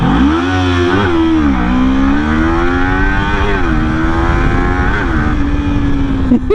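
A Kawasaki Ninja 400 motorcycle engine sounds loud and close, its pitch rising and dropping repeatedly through a series of gear changes.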